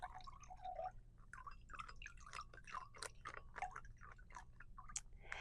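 Three packets of Ningxia Red juice mixed in a glass: soft, close liquid pours, drips and wet swishing sounds, fairly quiet with a low background hum, no talking.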